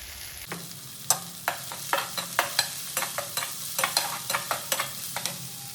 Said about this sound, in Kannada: ಸೊ ಇವಾಗೆಲ್ಲ ಟೊಮೊಟೊ ಈರುಳ್ಳಿ ಚೆನ್ನಾಗಿ ಬೆಂದಿದೆ